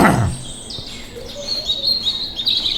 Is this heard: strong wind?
no